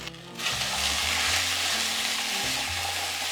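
Potatoes sautéing in a pan over high heat make a dense, constant sizzle that jumps up sharply after a quiet start and holds steady nearby, with no speech.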